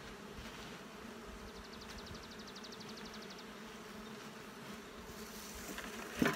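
Honey bees buzz around hives in an apiary: a faint, steady insect hum rises for a couple of seconds over a low background rumble, with no voices.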